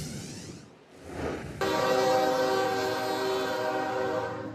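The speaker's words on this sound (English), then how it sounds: "As freight trains continue rolling north through Mexico towards the United States" Freight train rolling north through Mexico, a rising rumble followed by a loud sustained horn blast that holds steady over the rolling wagons, close and prominent.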